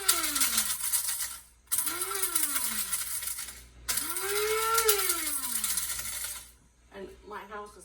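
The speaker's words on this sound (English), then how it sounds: "I have my little coffee grinder here." A small coffee grinder whirs loudly while powdering dehydrated tomatoes, three sustained bursts with the motor pitch dipping at each start, separated by short pauses, then a rattling tail as it stops.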